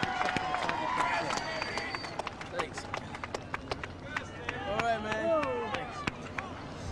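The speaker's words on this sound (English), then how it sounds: "a round of applause for these two great daredevils" Scattered crowd clapping and cheering at an outdoor daredevil motorcycle jump event, sharp claps over a busy background while an announcer talks over it.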